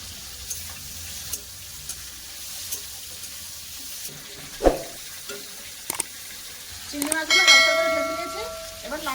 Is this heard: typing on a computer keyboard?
no